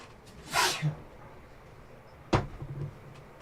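A single sharp sneeze bursts out, followed a couple of seconds later by another short sneeze-like burst, against quiet background noise.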